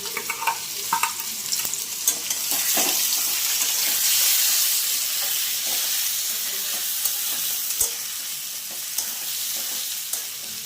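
Chopped onion and garlic frying in hot oil for a koi fish curry with vegetable stalks, a steady bright sizzle swelling in the middle, broken by scrapes and clinks of a spoon stirring the pan.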